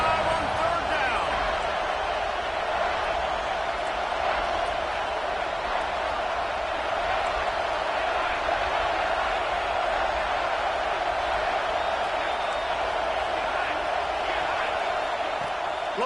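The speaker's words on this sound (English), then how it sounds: "The Buckeye crowd alive on third down." Ohio State Buckeyes stadium crowd cheering on third down in a college football video game, a dense, sustained roar filling the whole stretch at constant loudness.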